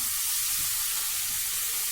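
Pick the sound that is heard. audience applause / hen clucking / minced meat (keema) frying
minced meat (keema) frying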